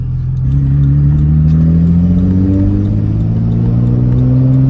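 Audi B5 S4 engine revving up, a loud, steady rising drone close by with no talk over it.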